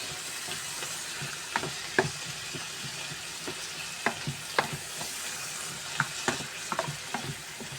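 Pancit bihon rice noodles are stirred in a hot pan with pepper. A steady frying sizzle runs underneath scattered scraping and clinking stir strokes, close and moderately loud, with no voices.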